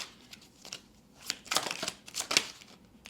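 Tarot cards riffled and shuffled by hand, then drawn: close, crisp flicking and slapping bursts in an uneven rhythm, growing denser midway, with no voice.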